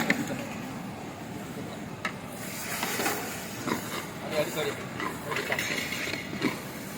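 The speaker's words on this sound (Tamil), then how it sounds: "சாப்பாட்டுக்கு தண்ணி கொதி வந்துச்சு." Water at a rolling boil in a cooking pot for rice, a steady broadband hiss with bubbling bursts, close up and continuous.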